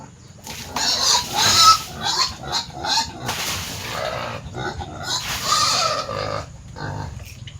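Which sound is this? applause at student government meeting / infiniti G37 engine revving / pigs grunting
pigs grunting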